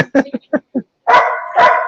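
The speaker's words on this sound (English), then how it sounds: "Yeah, these dogs, this is a dog haven here." Dogs bark in a place called a dog haven: a quick run of five short, loud yaps, then two longer drawn-out barks or howls close by.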